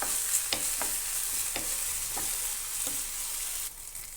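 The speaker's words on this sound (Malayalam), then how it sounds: "ഇനി ഇതെല്ലാം കൂടെ നന്നായി ഒന്ന് വഴറ്റിയെടുക്കുക." Tomatoes and masala sautéed in a pan for a Karnataka-style mixed vegetable curry, a steady frying hiss under a series of light, evenly spaced spatula scrapes and taps, close with no voices.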